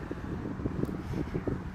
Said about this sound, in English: I know it's windy out here.